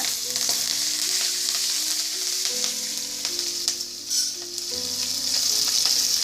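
Curry leaves, green chilies and mustard seeds with lentils crackle and sizzle in hot oil, a loud continuous fry with sharp pops, no talking over it.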